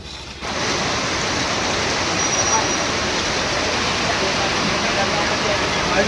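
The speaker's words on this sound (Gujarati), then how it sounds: "આહવામાં તો બહુ જોરમાં વરસાદ વરસી રહ્યો છે" Heavy monsoon rain pours down in Ahwa, making a dense, steady, loud roar with no break after a brief quieter start.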